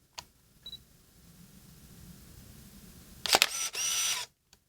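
A Canon Rebel S film SLR fires its mechanical shutter with a sharp click, followed by a brief whirring film-advance burst, in a quiet room; a faint beep sounds earlier.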